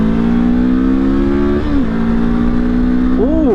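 A Voge 525 DSX adventure motorcycle accelerates at full throttle onto a dual carriageway, its steady droning engine note climbing, dropping briefly at a gear change, then rising again, loud and close throughout.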